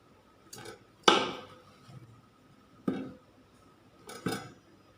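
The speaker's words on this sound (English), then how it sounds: "Let's chop the potatoes." A kitchen knife slices through potatoes onto a cutting board in four crisp, separate knocks spread over a few seconds, close and clear against a quiet background with no talking.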